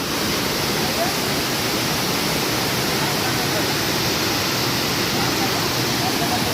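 A waterfall stream in the Konkan hills gives a steady, loud broadband rush of water that stays constant throughout, with faint voices underneath.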